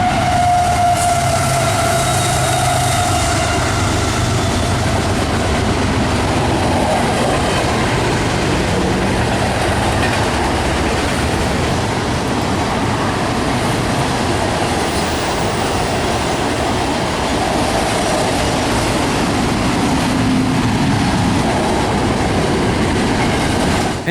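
Freight train I-009 passing at a bridge gives a loud, continuous rumble and rattle of rolling cars, with a horn sounding early on and steady clatter throughout.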